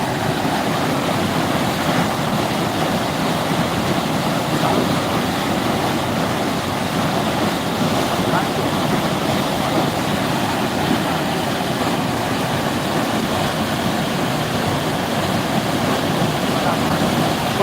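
Floodwater of the Chandani river at Sirsav rushing in a steady, broad roar, loud and continuous, with faint voices and ambient noise mixed in.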